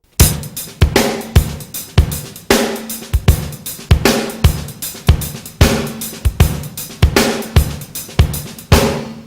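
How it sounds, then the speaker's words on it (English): A relaxed halftime shuffle drum groove, crisp hi-hats and soft ghost notes bouncing between heavy backbeats, played steadily and up close. "a halftime shuffle with a lot of ghost notes and a whole lot of feel"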